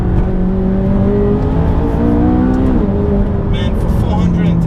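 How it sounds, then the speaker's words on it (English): Engine of a 2016 McLaren 570S sports car accelerating hard on winding roads, a loud continuous rising drone with shifting harmonics and turbo whoosh, heard from inside the cabin with a voice speaking over it. "Just those turbo whoosh and the sounds."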